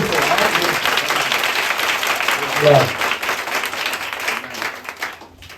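Loud, sustained clapping from a church congregation fills the room, with a voice speaking over it, before the applause thins and fades away near the end.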